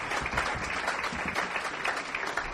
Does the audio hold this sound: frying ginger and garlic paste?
no